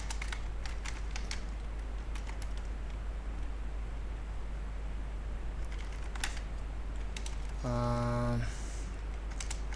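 Light keystrokes on a computer keyboard during PHP coding, scattered, quiet clicks over a steady low hum, ending with a brief tonal chirp.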